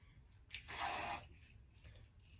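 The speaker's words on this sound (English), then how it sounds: "I'm gonna spray some on the actual laces" A single spray of product onto wig lace gives a brief hissing burst of about three-quarters of a second, close and fairly soft, followed by quiet handling noise.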